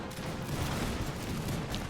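A brief burst of musket fire from dragoons in a video game battle, a dense crackling volley that holds for the whole short moment.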